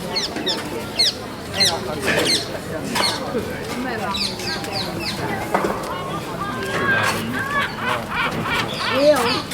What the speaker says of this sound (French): c'est la mouette, elle est à 5 mètres là, une mouette.